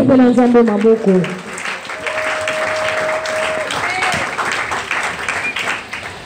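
A church congregation bursts into loud, sustained applause during a Sunday covenant renewal service, following a brief raised voice at the start, with the clapping holding steady before easing toward the end.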